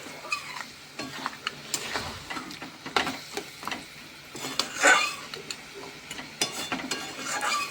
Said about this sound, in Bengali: এতে প্রায় দশ থেকে পনেরো মিনিট ধরে আমি কষিয়ে নিচ্ছি